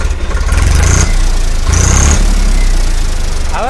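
A Swaraj 855 FE tractor (2025 model) running at idle, a loud, steady, low diesel chug with a rhythmic knock, heard close and with no talk.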